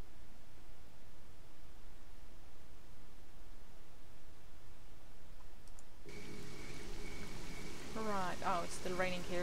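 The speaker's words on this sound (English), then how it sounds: "It's still raining here." Steady rain falls across a night rooftop in the Pripyat game world, a constant hiss of drops throughout, joined near the end by clicking and brief tonal game effects.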